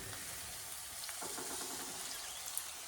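Quiet sizzle of tomatoes frying in a pan for South Indian egg gravy, with soft stirring scrapes and a faint clink, low and steady throughout.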